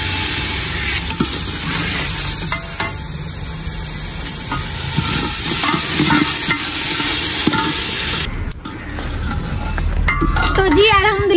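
Tomatoes frying in a pan while preparing aloo pulao, a steady loud sizzle with stirring scrapes throughout, close and continuous with no talk.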